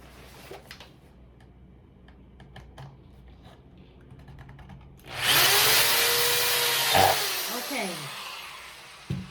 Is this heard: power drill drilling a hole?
yes